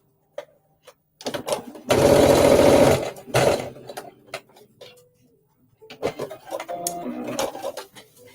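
Sewing machine tacking down pleats on a jumpsuit: a loud close burst of stitching for about a second, then softer handling clicks and a second shorter run of stitching.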